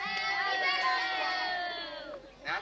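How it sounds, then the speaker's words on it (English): A group of children at a birthday party cheer and shout together for a couple of seconds, a dense, lively burst of young voices close by that dips briefly and then swells again at the end. "Everybody give Ian a nice round of applause here."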